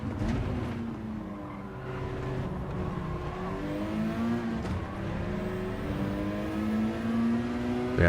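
A race car engine in a sim racing league game revs and shifts continuously, with rising and falling pitch, lifts off the throttle and faint tyre squeal, loud and close throughout.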